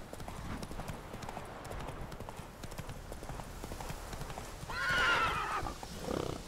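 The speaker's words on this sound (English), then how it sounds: "Whoa there, Roach" A horse in the video game The Witcher 3 clip-clops at a quick, steady gait and whinnies loudly near the end.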